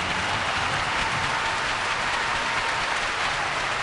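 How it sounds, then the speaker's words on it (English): An arena crowd at a junior hockey game applauds for veterans in attendance, a steady, full wash of clapping that holds evenly throughout without any talk. "give these men and women in attendance and around the globe a round of applause"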